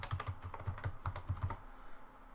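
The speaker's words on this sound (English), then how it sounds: "just type in your password" Quick keystrokes on a computer keyboard as a password is typed, about a dozen close, crisp taps in an uneven rhythm, then quiet.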